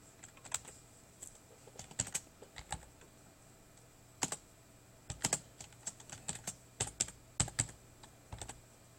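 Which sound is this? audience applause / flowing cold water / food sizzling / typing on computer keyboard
typing on computer keyboard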